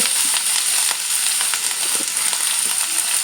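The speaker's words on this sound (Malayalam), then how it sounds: "നമുക്ക് ഇതിലേക്ക് നീ ഇപ്പം ഇഞ്ചിയും വെളുത്തുള്ളി ഇടാവേ" Ginger and garlic frying in hot oil after mustard seeds have popped, for a ginger-date pickle; a steady loud sizzle with faint crackles and occasional stirring, no talk.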